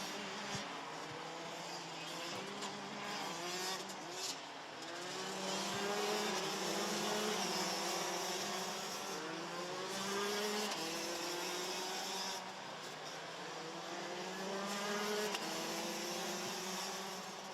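Rotax Max karts racing on the Wackersdorf circuit in a Euro Trophy Masters heat, a continuous buzzing of several two-stroke kart engines rising and falling as they pass, steady and moderately loud throughout.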